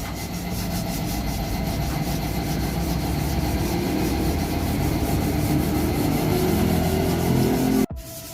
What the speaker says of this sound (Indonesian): sekarang kita lanjut hamplas dulu semua